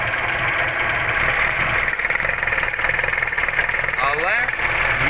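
A 1996 Volkswagen Golf 3's engine runs steadily near the microphone, a continuous loud mechanical drone with a faint rattle, while someone talks over it.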